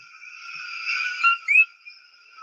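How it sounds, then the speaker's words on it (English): A tiny frog calls with clear, high whistling chirps, a sustained tone followed by two brief rising notes, close and distinct against silence. "it's a tiny ass frog"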